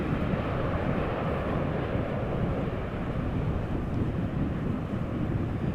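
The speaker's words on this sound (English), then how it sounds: "After that we are going to see a Boeing 767 from Icelandair." Icelandair Boeing 767 at Amsterdam Schiphol Airport, a steady, loud, broadband jet engine roar that holds constant throughout with wind buffeting the microphone, and no talk.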